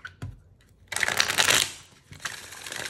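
A tarot card deck is shuffled up close: a brief tap, then a dense riffling burst lasting about a second, followed by another softer run of card flicks.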